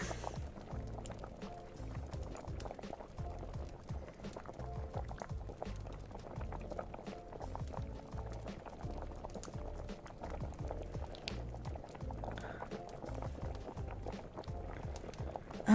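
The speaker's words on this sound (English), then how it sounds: "listen to the bubbles to know when it's done, so we're bubbling" A pot boiling in the video game Cozy Kitchens, with continuous dense bubbling and popping at a steady level throughout, unaccompanied by speech.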